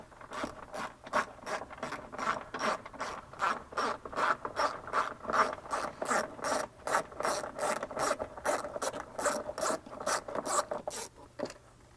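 A hand tool ratchets in rapid, steady clicks for about twelve seconds, loosening and removing a screw on a rear window MOLLE panel of a 4th gen Toyota 4Runner, close and clear with no talking.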